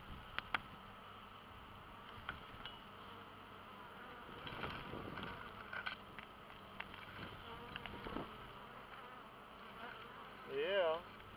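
Steady buzzing of many honey bees close by at a hive entrance, a dense humming swarm with occasional louder passes near the end.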